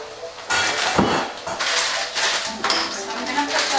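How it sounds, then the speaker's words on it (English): Lid set down on a pan of steaming green beans in a kitchen while cooking spicy Szechuan green beans, giving a sharp clatter of metal near the start amid ongoing clinks and cooking noise, with a voice talking over it. "we're going to put a lid on this"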